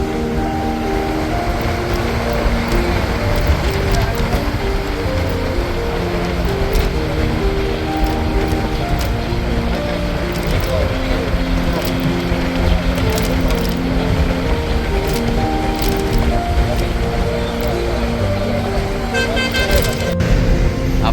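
A vehicle cruises fast on an empty open highway, a steady loud rumble of engine and road noise with wind rushing constantly for the whole stretch, heard from inside with no pauses.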